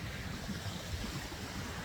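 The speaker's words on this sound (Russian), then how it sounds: "Ветер." Wind blowing along the shore of Lake Peipus near bushes, a soft steady rushing with low buffeting thumps on the microphone and lapping water beneath, faint and continuous with no voices.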